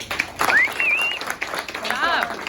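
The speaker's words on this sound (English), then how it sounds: "This round of applause is for you." An audience applauds in a steady wash of clapping, with high whistle-like tones rising over it and a voice talking through the burst.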